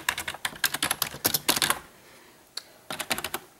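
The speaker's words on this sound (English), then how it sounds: "It's nice to have another keyboard." Rapid clatter of keystrokes on a computer keyboard, a dense burst of close clicks, a short pause with one lone tap, then another quick run of typing, with no voices.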